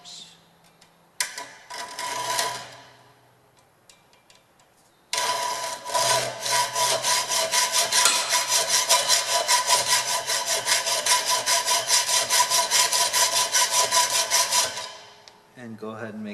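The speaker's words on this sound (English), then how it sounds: "go ahead and make your cut all the way through with your hacksaw" A hacksaw cuts through a blade tang in quick, even back-and-forth strokes, loud and close. Two brief bursts of sawing come first, then a long steady run of rasping strokes before it stops.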